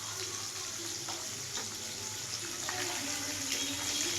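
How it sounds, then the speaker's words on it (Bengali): Fish frying in oil in a home kitchen pan gives a quiet, steady sizzling hiss with faint pops and no voices. "এরকম মাছ ভাজছি"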